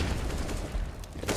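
Gunfire in a CS:GO pro match on the map Train, a dense spray of shots rolling continuously with louder bursts near the end, mid-distance and fairly steady throughout.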